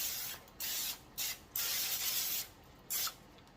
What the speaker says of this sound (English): So I'm just going to spray this with my